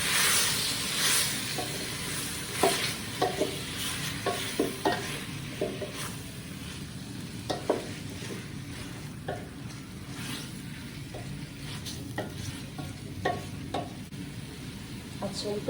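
Cubed pork frying in a pot with tomatoes, a steady close sizzle with repeated scraping stirs throughout.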